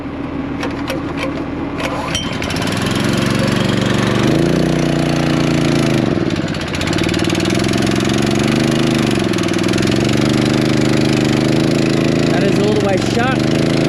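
A small engine with its choke on, part of a homemade boomless sprayer on a Western Australian sheep farm, is cranked and then catches into a loud, steady near run with wavering revs, while people talk and shout over it.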